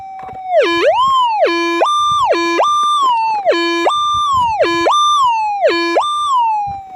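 Over a target hole while prospecting for gold, a metal detector gives a loud, insistent signal tone that repeatedly swoops low and back up, about six regular cycles close to the microphone with no talk.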